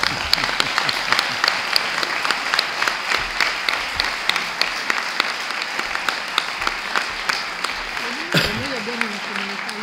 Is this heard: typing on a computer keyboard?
no